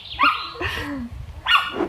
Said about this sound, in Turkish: Burada bizim bir tane minik köpeğimiz var. Bu böyle hiç susmaz.